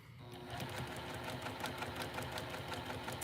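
A sewing machine running steadily while it stitches a 5/8 seam around soft Moda fabric, a close, continuous rapid mechanical whir with a fine rhythmic needle ticking.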